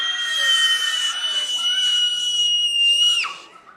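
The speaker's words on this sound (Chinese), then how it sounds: "我不知道他们会叫那么大声" Children shrieking loudly during a church service, a sustained chorus of high-pitched screams lasting about three seconds that ends in a falling glide, close and dominant.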